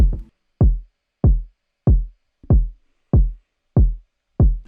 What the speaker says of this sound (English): So we used this Afro kick #2 from my Madsko pack.